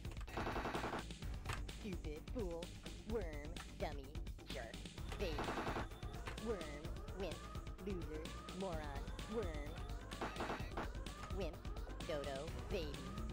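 Enemy fire strikes the player's ship in Star Control 2, a rapid run of electronic shots and warbling, siren-like tones that repeat close and loud across the whole stretch, mixed with the game's other busy effects.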